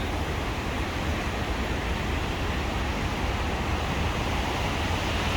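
The concrete-lined Los Angeles River flowing during a rainstorm, a steady, broad rushing roar of water with no breaks or talk, heard evenly throughout.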